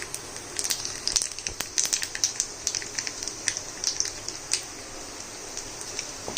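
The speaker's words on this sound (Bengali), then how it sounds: "এই পর্যায়ে আমি দিয়ে দিলাম একটা ফাটিয়ে নেওয়া শুকনো লঙ্কা এবং কালো জিরে।" Dried red chilli and nigella seeds sizzle in hot oil, a faint steady crackle with many sharp pops and spits scattered across the whole stretch, heard close with no talk.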